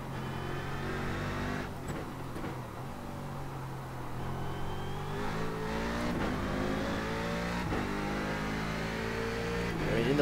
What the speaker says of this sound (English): you feel that the engine feels like it's building up pace as you get up through the gears